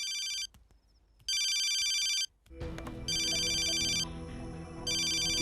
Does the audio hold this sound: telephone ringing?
yes